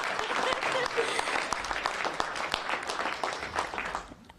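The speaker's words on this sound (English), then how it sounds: "you can applaud." Audience at a Los Angeles veterans housing event applauding, a dense patter of many hands clapping steadily before fading out near the end.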